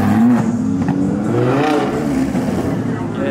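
A supercar engine, the Lamborghini, McLaren or Hellcat kind, revs loudly and steadily with a rising, wavering pitch, filling the clip from start to finish beneath a layer of music or voice.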